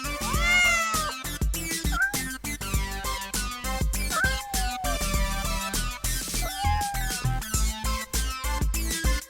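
A cat meows repeatedly, several loud, drawn-out cries with rising and falling pitch, close up, with brief pauses between calls.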